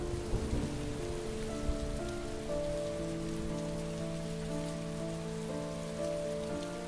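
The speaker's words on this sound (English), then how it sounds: "It's raining. I'd better get back inside." Steady rain falls across a game scene from Heavy Rain, a dense, even hiss of drops on surfaces with low sustained musical tones underneath, continuous and moderately quiet with no voices.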